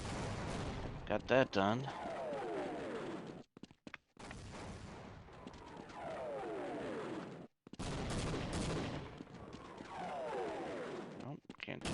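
Gunfire from the video game Half-Life crackles through three sustained bursts of dense, noisy shooting, with brief gaps between them, under someone talking.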